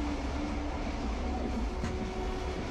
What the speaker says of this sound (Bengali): দুপাশের সারি সারি ধান ক্ষেতের মাঝখান থেকে এগিয়ে চলেছে আমাদের এই ট্রেনটি।